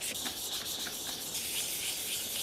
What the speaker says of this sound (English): and I'm gonna get to sanding.